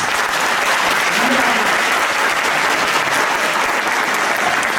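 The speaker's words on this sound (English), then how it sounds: "A big round of applause." A big round of applause from a school audience welcoming judges at a Sanskrit school event in Sydney, steady dense clapping filling the room from start to finish, loud and close.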